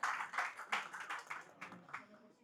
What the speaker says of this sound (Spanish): Un aplauso para acá por el primer trabajador de la viña.